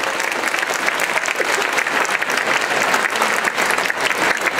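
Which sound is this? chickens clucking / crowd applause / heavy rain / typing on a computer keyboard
crowd applause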